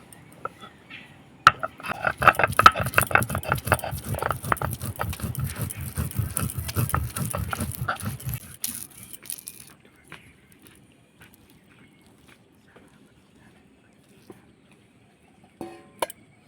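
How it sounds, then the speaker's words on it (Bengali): Soaked flattened rice being ground on a stone sil-pata, a dense run of rhythmic scraping and rubbing strokes for about eight seconds, then near silence with a few faint knocks. "চিরাটাকে আমি ভালো করে ধুয়ে নিয়েছি এখন আমি শিল্পাটায় বেটে নেব"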